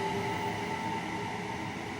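A commuter electric train in Train Sim World 3 on the Ramsgate to London Victoria route, a steady low rumble and rolling hum with a faint motor whine, continuous and even, no voices.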